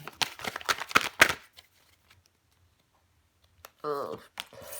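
Tarot cards are drawn from a deck with quick crisp slaps and riffles in a close burst, then a long quiet gap and a brief voice near the end.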